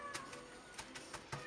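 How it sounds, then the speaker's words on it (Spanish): A female cat cries with faint, short meows in a garden, quiet and distant against light background noise. "Está llorando la gata."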